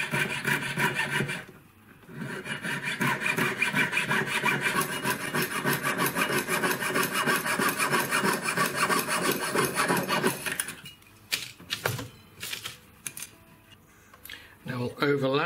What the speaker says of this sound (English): So now I'm going to cut them apart to make the 5 rings.